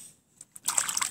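A child splashes water in a sink, starting with a few faint drips and light taps, then breaking into a burst of close, busy splashing and sloshing.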